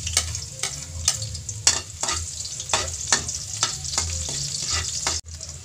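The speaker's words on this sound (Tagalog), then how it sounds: "Igisa tayo ng bawang." Garlic sautés in hot oil with a steady sizzle broken by regular stirring scrapes about once a second, close and clear, with no talk.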